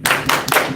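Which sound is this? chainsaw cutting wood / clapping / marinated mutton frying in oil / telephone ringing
clapping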